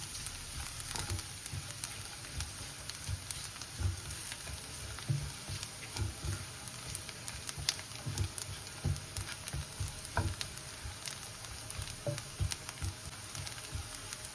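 Masala mixture with Kitchen King masala sizzles steadily in a hot pan while being sautéed, a close, continuous crackling hiss punctuated by soft scraping stirs throughout, with no talking.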